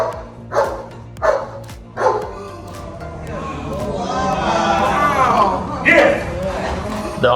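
Police K9 dog from a city department's K9 unit barking in three sharp, loud bursts early on, then a busier stretch of yips and whimpers under crowd noise and talk, with another bark near the end.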